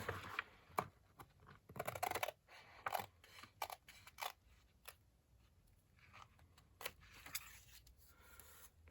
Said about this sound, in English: I'm going to rest my scissors blades against the guest check so that I can cut it down